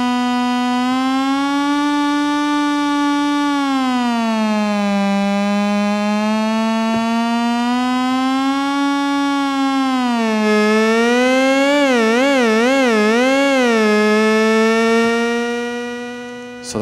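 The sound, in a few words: SOMA Terra synthesizer sound controlled by its gyroscope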